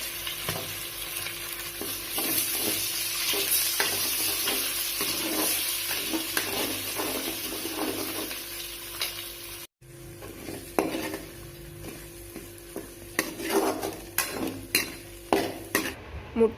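Eggs fry and get stirred in a pan for fried rice, a steady close sizzle with repeated scraping clinks of a metal spatula against the pan, briefly pausing then resuming with sharper scraping.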